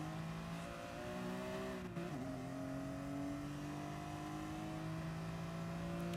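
BMW saloon race cars roar past at Kirkistown circuit, engines holding a high sustained note with a brief dip and shift as they carry speed, loud and continuous.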